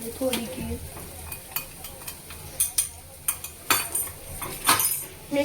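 Macaroni stirred with a spoon in a metal pan while turmeric and spice chutney are mixed in, giving repeated scraping clinks in an uneven rhythm over a faint sizzle, close up.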